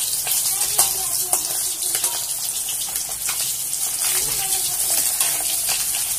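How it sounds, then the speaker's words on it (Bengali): Fish frying in hot oil in a wok gives a steady, dense hiss and sizzle throughout, with faint speech in the background. "আমি মাছটাকে ভেজে নিচ্ছি"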